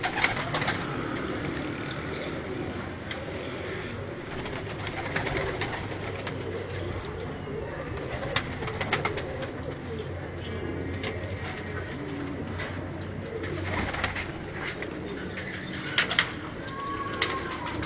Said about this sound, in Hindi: ये कबूतर तकरीबन उन कबूतरों में से हैं। ये सियालकोट के बड़े पुरानी, ये बड़ी पुरानी ब्रीड है